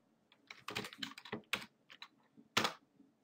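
Keys clatter on a computer keyboard while code is entered, a close, crisp run of irregular taps in quick bursts, then a short pause and a final louder keystroke.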